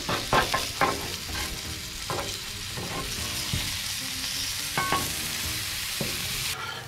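Tuna fillets searing on a Blackstone griddle, a steady loud sizzle with sharp crackles and a few clanking spatula scrapes and taps near the start and middle.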